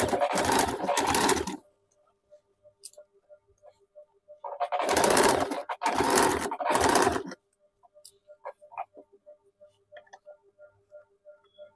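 A sewing machine stitches a pinned petticoat seam in two bursts, running a second line over earlier stitching. A short burst is followed by a longer run broken into three pulses, with quiet rhythmic ticking in the pauses.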